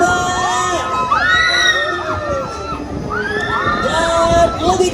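Riders on an amusement park ride at Mikie Funland Brastagi shriek and shout together in rising, wavering screams, loud and close, repeated in overlapping waves throughout.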